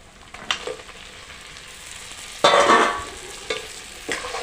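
Goat head meat curry stirred in a frying pan: a steady low sizzle with several scraping stir strokes, one longer louder scrape near the middle and shorter ones after it, no talk.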